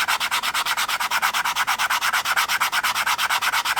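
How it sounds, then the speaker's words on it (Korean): Sandpaper rubs back and forth across the stitched edge of leather to level it flat for a cylindrical pencil case, a close, loud, rapid and very regular scraping rhythm. "가죽의 단면 평평하게 갈아줍니다"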